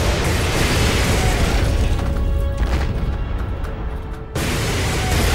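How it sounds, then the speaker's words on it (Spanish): Gunfire and explosions fill a World War II battle at Tobruk in the strategy game Codename Panzers 2, a dense, continuous roar of shots and blasts that briefly dips before surging back. "¿De dónde proceden esos disparos?"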